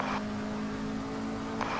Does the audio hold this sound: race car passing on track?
yes